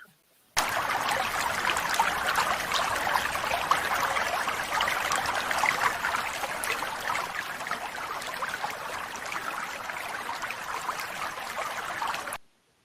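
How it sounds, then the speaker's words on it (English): Water flows like a brook in a steady, continuous trickle and babble, moderately close, with no voices over it. "how do you feel when you hear the sound of the water flowing like a brook?"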